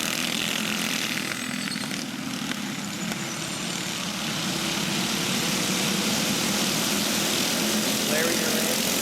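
Small-engine go-karts racing around a backyard dirt track, a continuous buzzing engine drone that swells slightly toward the end, heard from trackside.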